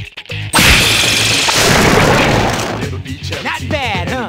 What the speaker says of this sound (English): Let us commence with an all-out attack.